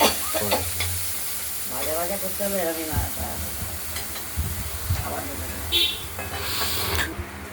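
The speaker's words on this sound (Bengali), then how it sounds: "আমরা কড়াইয়ের ঢাকনাটি খুলে নাড়াচাড়া দিলাম।" Steady sizzling of chopped bitter gourd and red potato frying in oil in a wok, with scraping stirring sounds and a voice speaking over it.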